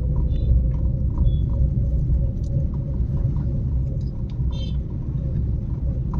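A car pulls away in second gear during a driving lesson, its engine a steady low rumble that builds gently under close, loud cabin noise with no clear voice.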